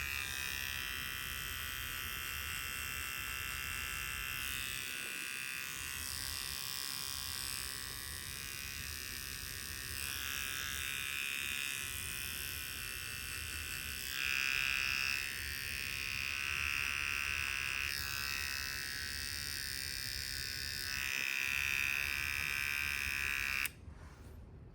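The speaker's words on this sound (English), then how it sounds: "it is very helpful to clean up this lip. I just use my little clipper for it." Small electric clipper buzzing steadily while trimming the lip hair of a rough-coated Brussels Griffon, a close, continuous high whine with slight shifts in pitch as it moves, cutting off abruptly at the end.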